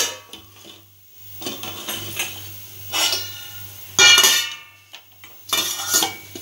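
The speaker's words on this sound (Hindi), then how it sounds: "अब हम इसको एक थाली में निकाल के जमाएंगे।" Steel utensils clatter and scrape against a metal plate and pan as cooked besan batter is moved, with a faint steady hum beneath the repeated clinks and one louder metallic knock.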